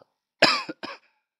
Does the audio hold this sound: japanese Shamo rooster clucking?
no